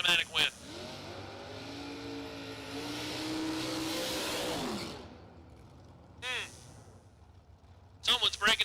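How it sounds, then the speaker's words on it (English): At a drag strip, a drag race car does a burnout to break in new tires, a long rising and falling engine roar with tire noise, while an announcer talks over it. "Someone's breaking in new tires."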